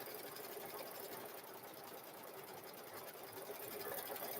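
Sewing machine stitching down fabric for a cow-themed quilt, a steady fast mechanical whir and needle chatter running continuously and close throughout, with no pauses.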